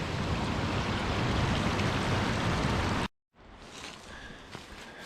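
A waterfall and flowing stream roar loudly and steadily for about three seconds, then drop out briefly before a quieter, more distant rush of water returns.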